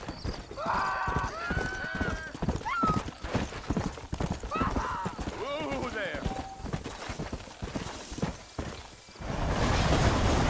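Horse hooves clip-clop steadily while riding in the video game Red Dead Redemption, with a horse neighing and whinnying early on, all beneath ongoing conversation.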